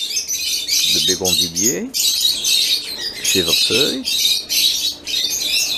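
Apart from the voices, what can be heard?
birds chirping and calling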